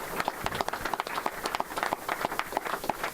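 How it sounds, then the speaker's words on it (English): A small crowd at a special-election gathering gives scattered, fairly quiet applause, with distinct individual claps standing out in an uneven rhythm. "Let's give all of you a round of applause for that."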